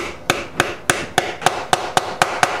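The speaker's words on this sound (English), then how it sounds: "what you use is what's known as a dead blow hammer" Dead blow hammer tapping a guitar amplifier part into place, nine evenly spaced firm knocks in a steady rhythm, close and distinct with no voices.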